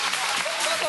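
Brief burst of audience applause at a live comedy show, a dense close wash of clapping lasting about a second.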